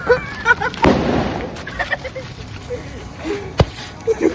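Diwali firecrackers go off in two sharp, loud bangs, the first followed by crackling debris and the second a crisp single crack, amid chatter and smaller pops.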